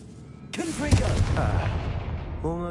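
A Confringo fire spell in Hogwarts Legacy bursts with a sudden loud blast that rumbles and fades over a couple of seconds, with short tonal game chimes around it.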